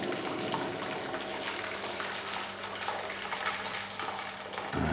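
Boiling water poured from a kettle into a large frying pan, a steady close gushing splash that runs unbroken for several seconds before cutting off abruptly.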